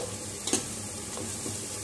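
Onions sautéing in a pan give a steady, close sizzle throughout, with a brief clatter of stirring near the start.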